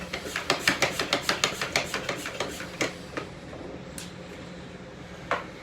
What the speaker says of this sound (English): So basically I'm just going to pump it up.